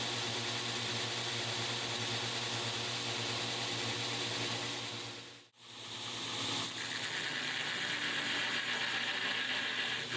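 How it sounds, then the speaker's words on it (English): Belt grinder cutting a false edge along the spine of a Cu Mai steel-and-copper knife, a steady loud abrasive hiss and whir, briefly dropping out midway before resuming. "we're grinding in that false edge going across the top"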